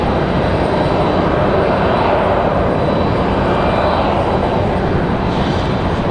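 A Breeze Airways Airbus A220-300 arrives on runway 23 left, its jet engines roaring loud and close in a sustained, broadband rush that holds steady and swells slightly as it passes.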